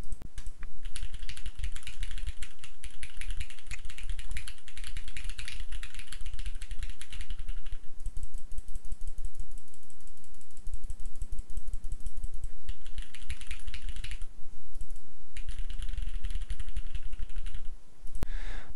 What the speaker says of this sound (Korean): 키보드와 마우스 버튼을 눌러보도록 하겠습니다